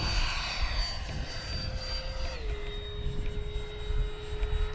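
A jet aircraft engine roars with afterburners lit at takeoff, a steady loud rush with a high whine that steps down in pitch partway through.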